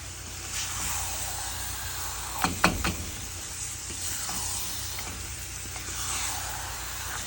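Tamarind pickle with garlic sizzling steadily in a pan while being stirred and darkened, a continuous fry hiss with a couple of brief louder scrapes near the middle.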